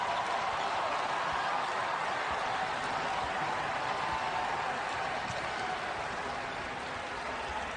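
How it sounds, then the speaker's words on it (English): A basketball arena crowd at a WKU versus Arkansas game roars in a loud, sustained wash of cheering and applause that barely eases over several seconds. "Listen to this crowd."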